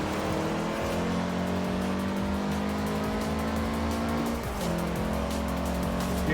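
Car engine in Forza Horizon 4 revving steadily through a race, loud and close, with a brief dip around a gear change before the drone climbs again and some tire noise in the mix.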